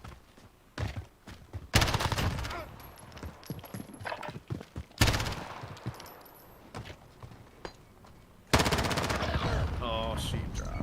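Rapid gunfire from a small gun in a shooting video game, heard as several loud bursts of quick repeated shots separated by quieter stretches of game noise and scattered clicks.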